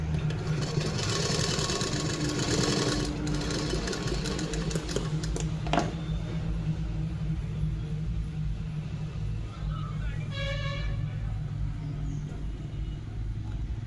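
A sewing machine stitching blouse fabric runs in a steady, fast, close mechanical whir that goes on throughout, with a faint voice now and then underneath.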